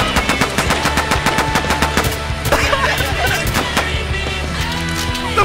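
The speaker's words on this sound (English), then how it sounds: "Hear that gunshot?" Rapid bursts of automatic gunfire from a first-person shooter video game, loud and close, with clustered shots and a busy, dense mix of game effects behind them.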